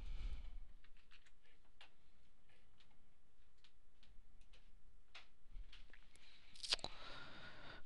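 Computer keyboard typing while entering a username and password, light scattered clicks in short irregular bursts over a quiet room hum, ending with a brighter double click.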